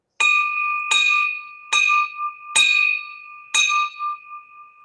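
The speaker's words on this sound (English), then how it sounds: "Please ring the bell for Pam." A bell rung five times, each a bright ringing strike with a steady tone that hangs and decays before the next, evenly spaced, close and loud with no talk.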